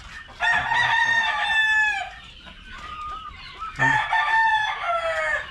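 Chickens cluck and squawk loudly up close in two long drawn-out calls, with a rooster-like crowing quality and faint farmyard noise between them.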